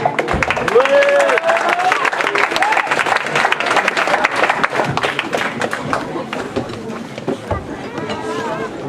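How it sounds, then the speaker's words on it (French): Audience applauding children at a Christmas party, sustained clapping from a room full of people, loud at first and gradually thinning, with voices and a brief whistle mixed in. "applaudir les enfants"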